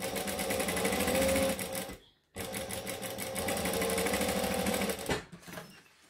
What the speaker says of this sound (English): I'm sewing as close to the edge as I can